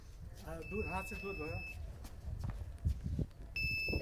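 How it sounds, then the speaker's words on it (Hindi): The alarm buzzer on a high-tech social distancing cap sounds as a steady high electronic tone lasting about a second, then starts again near the end, while someone talks over it. "अगर कोई गलती से भी पास आ रहा है तो ये सिग्नल दे देगा, बजर बजने लगेगा"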